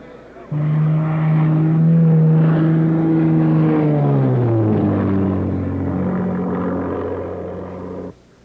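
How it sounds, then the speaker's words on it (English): An Aero Commander Shrike twin-engine plane performs rolls and loops at the Le Bourget air show, its steady engine drone holding loud for several seconds before the pitch sweeps down and settles lower, then cuts off abruptly. "Air show regular Bob Hoover performing his Aero Commander strike routine of rolls and loops with and without engines for the thousands at Le Bourget"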